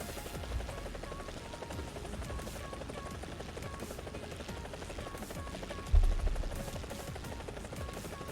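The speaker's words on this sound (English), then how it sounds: "Let's just go down in the chopper" Helicopter in the War Thunder video game, a steady rotor and engine drone throughout with a brief thump or gunfire burst near the end, moderately loud with no talk.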